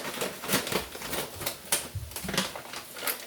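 Kitchen scissors snip and crinkle through a stubborn small plastic food bag: a quick series of sharp rustling cuts and crackles, close and fairly faint, with no talking.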